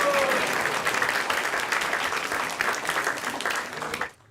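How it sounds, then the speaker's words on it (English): A large audience at a temple gathering claps in loud, sustained applause for about four seconds before it cuts off abruptly. "So let's give a big round of applause to everyone who has joined us tonight here"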